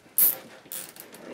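A plastic zip tie pulled tight on a holiday wreath frame gives a short, bright ratcheting zip, then a couple of softer follow-up clicks, close and alone.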